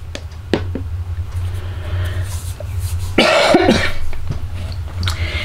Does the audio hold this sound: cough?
yes